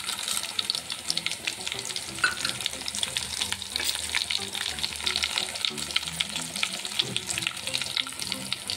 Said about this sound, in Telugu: ఆవాలు, ఇవన్నీ బాగా ఫ్రై చేసుకోవాలి.